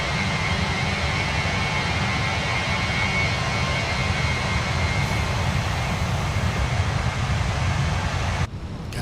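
Airbus A321 jet engines at takeoff power, a loud, steady broadband roar heard from the flight deck that holds unbroken throughout, with no talk.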